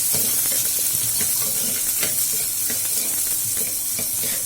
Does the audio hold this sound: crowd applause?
no